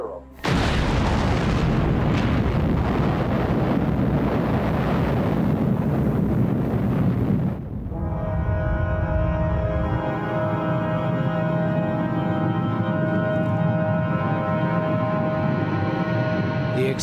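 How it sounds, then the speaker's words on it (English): The Trinity atomic bomb test explodes in the desert as a huge, sustained roaring blast that rumbles loudly for several seconds before settling into a lower, continuing rumble. "The explosion vaporized the stainless steel tower holding the bomb."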